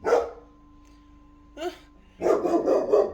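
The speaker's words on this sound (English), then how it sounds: "See, my dog barked to confirm it." A dog barks close and loud: one bark, a short pause, a second bark, then a quick run of several more barks.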